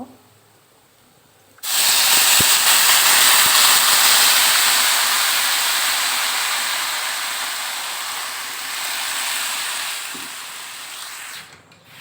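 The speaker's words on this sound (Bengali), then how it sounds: "এবার আমি গরম পানি দিয়ে দিব" Hot water poured onto fried rice in a pot while making biryani, a sudden loud hiss and steamy spray that bursts in and then slowly fades over several seconds, close up with no talk.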